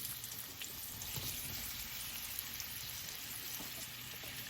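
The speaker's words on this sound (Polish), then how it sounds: "I teraz pozwolę im się troszeczkę podrumienić na takim, na średnim ogniu" Zucchini and carrot pieces browning in a pan over medium heat, giving a quiet, even sizzle that holds steady throughout with a few faint stirring touches, nobody talking.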